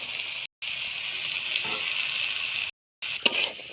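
Peas tip into a pan where mutton fat and potatoes are already frying, bringing a steady close hiss of sizzling with brief breaks and a few stirring clatters near the end.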